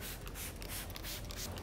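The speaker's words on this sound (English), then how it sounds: "So we're going to spray some right on the hood here." Several quick hissing bursts of V7 Quick Detail Spray hit a car hood in close succession, each a short airy spritz heard alone and close.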